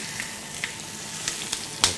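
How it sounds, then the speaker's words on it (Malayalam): Prawns frying in coconut oil in a pan, a steady close sizzle with a few sharp spits and pops standing out, no talking. "ഇതിപ്പോൾ തന്നെ കൊഞ്ചായതുകൊണ്ട് പെട്ടെന്ന് ഫ്രൈ ആവും"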